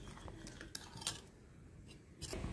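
A spoon stirs curry in a cooking pot for a homemade Onam sadya, giving a few close, scraping clinks of metal on metal with short pauses between strokes.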